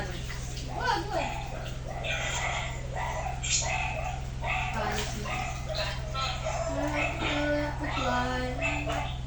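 Small dog yips, whimpers and gives short barks in bursts during an indoor bath time, mixed with people and someone talking over a steady low hum.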